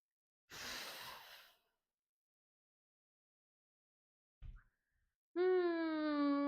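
A woman exhales during a postpartum exercise session: a single soft, breathy outward breath close to the microphone, followed by quiet and then a brief sustained vocal tone.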